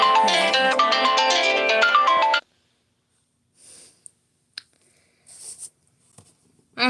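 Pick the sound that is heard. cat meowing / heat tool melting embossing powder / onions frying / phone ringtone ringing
phone ringtone ringing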